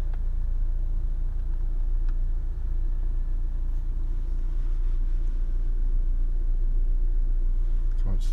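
A Honda CR-V 2.0 i-VTEC petrol engine idles steadily with a constant low rumble that holds level throughout, with no one speaking over it.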